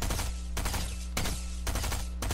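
Rapid automatic gunfire from a Stinger and Machine Pistol in a shooter game, sustained loud bursts broken into about four strings of shots with brief pauses between them, no talking.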